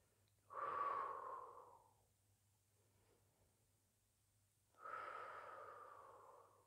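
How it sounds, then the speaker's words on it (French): Two slow, deep breaths are heard close and quiet, each a long airy inhale-exhale swell separated by a pause of near silence. "je vous invite vraiment à respirer, à prendre des respirations profondes"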